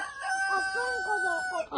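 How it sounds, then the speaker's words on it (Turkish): A rooster crows loudly and close by on a village farm, a drawn-out cock-a-doodle-doo with clucking tones of chickens mixed in. "tavuklar da var burada"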